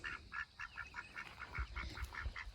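Ducks in a backyard duck pen give a steady run of repeated nasal quacking calls in quick rhythm, moderately close, with low thumps and outdoor background noise.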